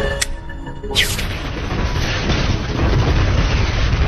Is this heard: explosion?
yes